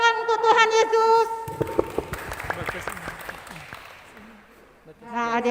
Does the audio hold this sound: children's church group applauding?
yes